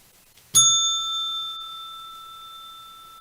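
A single bright bell strike rings out sharply, then its clear tone lingers and slowly fades over a few seconds in otherwise quiet surroundings.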